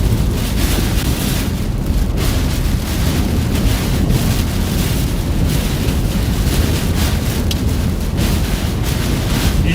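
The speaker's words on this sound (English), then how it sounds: "This wind is absolutely absurd." Violent wind buffeting a vehicle during a tornado chase in northeastern Colorado, a loud, continuous roaring rush with constant gusty rumble and no speech.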